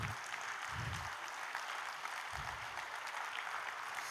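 Fairly faint, steady applause from an audience at a music and meditation session honoring the accompanying musicians, an even patter of claps with a few low thumps, no clear talking.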